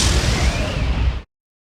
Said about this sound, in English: The rocket hits the dump with a terrific crash.